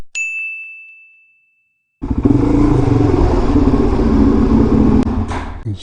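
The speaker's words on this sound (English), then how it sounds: "We got a little race between a couple Z50s and an XR70." Honda Z50 and XR70 minibikes race, small single-cylinder engines buzzing loud and close after a bell-like ding rings out and fades, the motors revving steadily with a sharp clack partway through.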